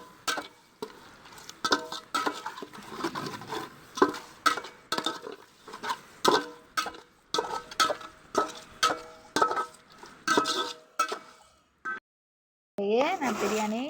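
Chicken is stirred in a cooking pot for biryani, giving a steady run of close, rhythmic scraping clinks, one after another, before a short pause and a different brief sound at the end.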